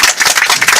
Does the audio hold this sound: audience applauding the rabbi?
yes